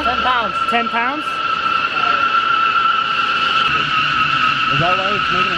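Tires on a 290hp Honda D15B-engined car scrub and squeal as they drag at an angle, a sustained high-pitched whine heard up close while people talk over it.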